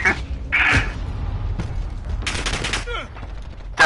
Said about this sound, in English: My gun's shooting.